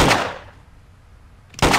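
Two sharp, loud revolver shots in the video game Trespasser, one at the start and one near the end, each a hard crack with a fading tail and a quiet pause between them.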